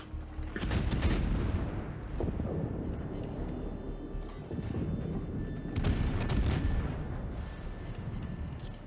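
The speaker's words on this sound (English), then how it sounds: "which of course gives Pref another nice cruiser broadside to shoot at. He opens up" Heavy naval gunfire from a Des Moines cruiser in World of Warships, fired as a broadside at an enemy cruiser: loud booming salvos near the start and again around six seconds, with a rumbling roar in between and after.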